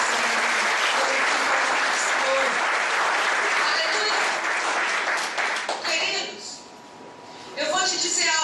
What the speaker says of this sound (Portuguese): Então dê um aplauso poderoso a Ele nessa manhã.